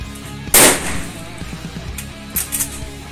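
A CBC Military 3.0 shotgun fires an SG cartridge at a target on a shooting range: one sharp, loud blast with a quick decay, then faint clicks and handling noises.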